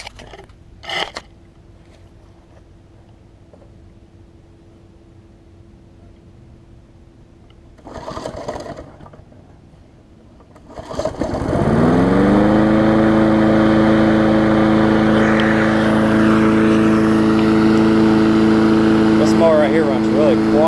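A small engine on an old Murray mower is pulled over, catches and settles into a loud, steady running drone up close after a few seconds of quiet and a short rustle, with a voice talking before it starts.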